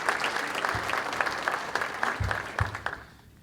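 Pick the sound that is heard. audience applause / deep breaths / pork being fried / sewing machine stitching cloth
audience applause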